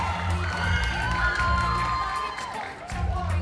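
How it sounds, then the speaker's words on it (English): Audience at the Marcus Garvey Awards for Excellence in the Performing Arts ceremony cheering and whooping loudly, a dense crowd roar with some shouting that carries through the whole moment. "And a big round of applause for our 5 nominees."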